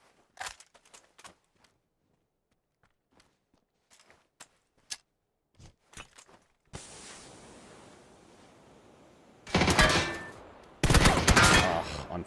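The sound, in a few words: gunfire in the video game PUBG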